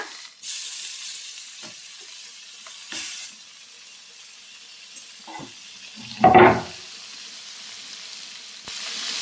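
Food sizzles in a pan over a low flame with a steady hiss. Occasional stirring and turning scrapes are heard, and a louder burst of sizzle comes as it is flipped.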